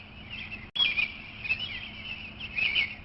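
Springtime songbirds sing outdoors, a thin chorus of high chirps and warbling phrases that continues through the clip after a momentary break near the start.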